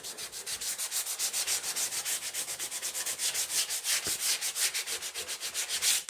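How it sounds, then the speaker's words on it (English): Quick hand sanding of a tacky cured adhesive surface: steady, rhythmic back-and-forth scratchy strokes, close and continuous, with no talking. "if you simply give it a quick sand"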